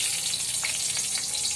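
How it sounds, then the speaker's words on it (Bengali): Green chillies sizzle in mustard oil in a kadai before brinjal is fried, giving a dense, steady frying hiss with a few soft pops, close-up and alone. "এখন কাঁচামরিচটা তেলের মধ্যে দিয়ে একটু ঝালটা উঠে যাক।"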